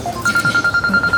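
An incoming call on a telephone rings as a short, loud burst of rapid, evenly pulsed electronic beeps, heard alone.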